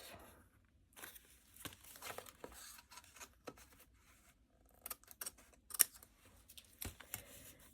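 Quiet, close snips of scissors cut through paper scraps for a junk journal, including a shredded wheat cereal box sleeve, with soft paper rustling and crinkling between the irregular cuts.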